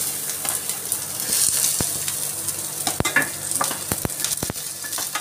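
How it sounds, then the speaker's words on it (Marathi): Onion roasting in a pan during home cooking of a chicken recipe: a steady close sizzle with scattered sharp clicks and scrapes of stirring. "आणि अशा पद्धतीने मी हा कांदा भाजून घेत आहे।"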